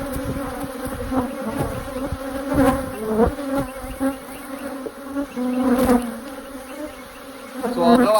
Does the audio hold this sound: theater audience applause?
no